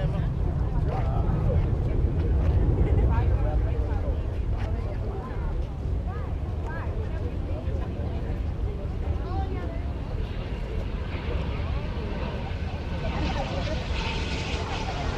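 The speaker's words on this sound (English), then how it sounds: "737 landing while a B-17 taking off." A B-17 bomber takes off while a Boeing 737 airliner lands at an air terminal museum fly-in. Loud, continuous engine roar fills the whole stretch, with gusty wind buffeting the microphone.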